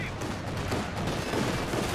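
Sustained gunfire from penal battalions in a video game battle, a dense, continuous rattle of overlapping rifle shots with low rumbling booms beneath, loud and unbroken.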